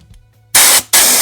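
Loud bursts of compressed-air hiss from an air gun connected to a compressor's air line, two blasts in close succession with a brief break between them.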